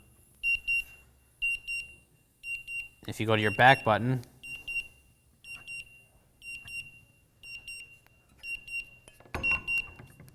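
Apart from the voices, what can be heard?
gas detector alarm beeping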